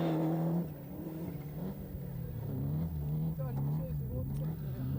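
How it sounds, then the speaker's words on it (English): A Mercedes rally car accelerating hard on a 1995 ELE-Rally stage, its engine rising and falling in pitch as it struggles for traction, moderately distant, under a commentator's continuous talk. "who really is having problems getting the power down with the Merc, but gets the back out well"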